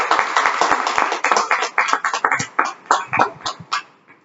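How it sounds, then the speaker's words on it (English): Applause for two speakers at a Toastmasters evaluation meeting, a short burst of distinct, fairly sparse claps that thins out and fades over a few seconds. "A big round of applause for both Sudhir and Apoya."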